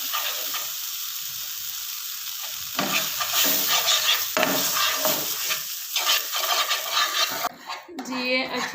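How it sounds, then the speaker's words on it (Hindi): Spoon stirring browned flour and milk in a hot pan, a continuous scraping sizzle with rhythmic strokes and rubbing against the pan surface, close and fairly loud throughout. "ये हम आटे को अच्छी तरह से मिक्स कर लेंगे।"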